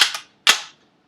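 An M1A Scout rifle's action is worked to clear it, giving two or three sharp metallic clacks in quick succession, close and loud, then silence.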